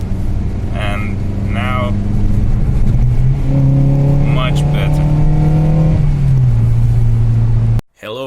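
A Suzuki car with a modified exhaust and no catalytic converter idles and revs steadily with a loud, droning low tone that rises briefly, while someone talks over it before it cuts out near the end.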